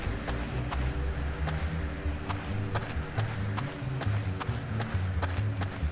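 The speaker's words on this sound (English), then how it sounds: "I hear some footsteps around the house" Footsteps of a player moving around a house in the survival video game Rust, a run of rapid thudding steps over a steady low rumble of game ambience, fairly close and continuous throughout.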